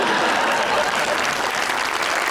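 A studio audience made up mostly of women claps together, a dense and steady burst of applause lasting a couple of seconds.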